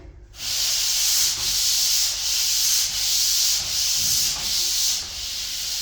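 Hand sanding of drywall joint compound in sections along the edges and middle, a steady loud rasping scrape repeated in about five long even strokes, close up with no talking.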